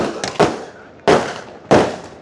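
Firecrackers burst at a street celebration in Shivajinagar, Karnataka, marking a cabinet induction: three loud, sharp bangs, each followed by a brief crackling decay and spaced roughly half a second apart.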